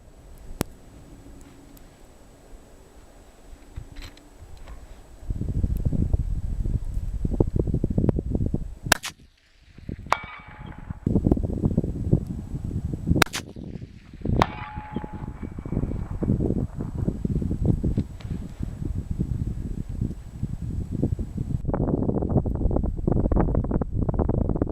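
A .308 Winchester rifle loaded with IMR 4895 powder fires a few sharp, widely spaced reports outdoors, each a sudden crack that stands out above a continuous low rumble of wind and background noise.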